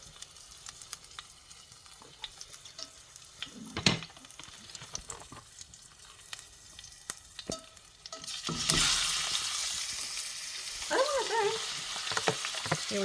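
Ground beef sizzles in a hot pan, quiet clicks and stirring scrapes at first, then a sudden loud burst of frying around the ninth second that keeps hissing steadily to the end.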